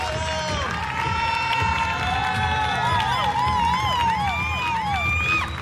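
An audience at a regional costume pageant claps and cheers, loud sustained applause mixed with whoops and shouts, and an announcer's voice rings out over the crowd.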